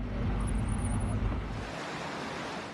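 Floodwater gushes from a mountainside onto a road near Firuzabad in Fars province, a loud, steady broadband rush of water that thins and eases after a couple of seconds.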